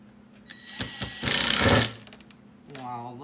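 A power drill whirs in a short burst, rising to a loud grinding spin for under a second, with brief voice sounds before and after.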